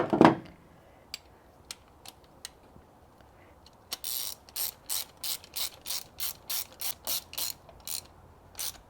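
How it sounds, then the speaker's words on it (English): Spark plugs being tightened on a VW Scirocco Mk2 with a hand ratchet: a few scattered clicks at first, then a steady run of about a dozen sharp, evenly spaced ratcheting clicks close by, with no talking. "You can always tighten the first few threads by hand before you start ratcheting them up."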